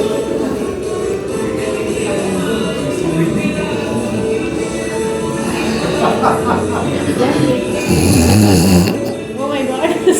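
A speaker imitates loud, continuous snoring, breathy rasping that runs through the clip and swells near the end.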